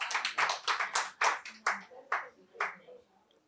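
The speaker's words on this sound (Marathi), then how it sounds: "टाळ्या." During a lecture, a handful of listeners clap sharply and distinctly, with about ten claps that slow down and fade to silence within a few seconds.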